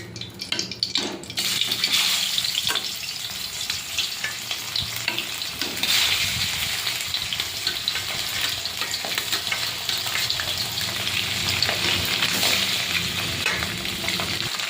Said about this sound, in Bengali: এবারে তেল দিয়ে দেবো, দিয়ে মাছগুলো ভেজে নেব।